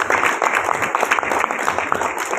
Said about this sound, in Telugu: గట్టిగా చప్పట్లు, అసలు ఆగొద్దు